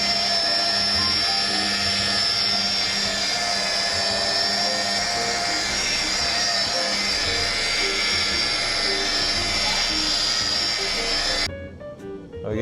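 A rotary or dual-action polisher buffs car paint with a steady high-pitched whine, loud and close, running continuously before cutting off near the end.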